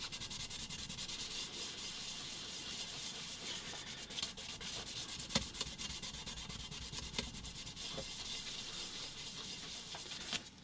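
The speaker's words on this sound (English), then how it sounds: "I think we can go ahead and sand the sides here." Filler on the sides of a 1:18 scale 1973 Trans-Am model car body is sanded by hand, a close, steady, continuous rubbing rasp with a few light knocks.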